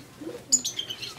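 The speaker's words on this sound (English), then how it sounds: "These birds are adorable." Pet parrots chirping in a bright cluster of sharp tweets and squeaks partway through, with low chatter and indoor noise underneath.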